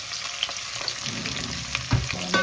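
Onion, curry leaves and green chili frying in hot oil in a pan for a Jaffna-style goat curry, a close, steady sizzle broken by a few stirring scrapes and clicks, with no talking.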